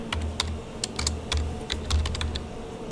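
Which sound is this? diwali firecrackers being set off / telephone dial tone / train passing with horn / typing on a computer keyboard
typing on a computer keyboard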